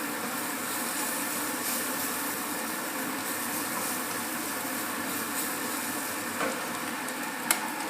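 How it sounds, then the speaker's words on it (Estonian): Flour browning in a frying pan with garlic, a steady close sizzle and crackle that holds constant throughout, with a faint clink near the end. "tuleb seda natukene pruunistada"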